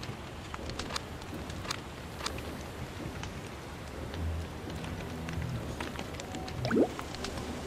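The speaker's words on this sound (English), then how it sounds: "Oh, man, oh, it's raining." Rain falling in the survival game Don't Starve Together: a steady, soft patter with scattered drips and ticks, fairly quiet and continuous, with a brief squeaky sound near the end.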